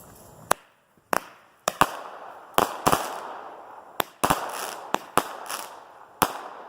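Keystone Fireworks 'Honor' consumer firework going off: a rapid series of about a dozen sharp, loud bangs at irregular intervals, each followed by crackling, fizzing tails, with no talk.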